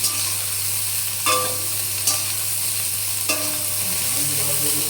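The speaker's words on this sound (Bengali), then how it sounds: "তেলটা একটু গরম হয়ে গেছে, সয়াবিনগুলো দিয়ে দিলাম। এই সয়াবিনগুলো একটু হালকা করে ভেজে নেব।" Soybean chunks frying lightly in hot oil in a kadai: a steady bright sizzle throughout, broken by three sharp scraping stir strokes at intervals, with no talk.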